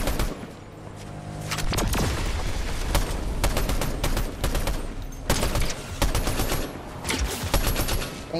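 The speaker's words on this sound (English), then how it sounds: "I'm shooting at the NPC" Loud bursts of Fortnite weapon fire aimed at a computer-controlled character, shots cracking in quick irregular volleys after a brief quieter opening, with heavy booming impacts mixed in.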